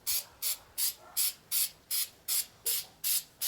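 Rustoleum Pro Grade bed coating sprayed from a can onto a rusty skid plate in about ten short, evenly spaced hissing bursts, close and clear.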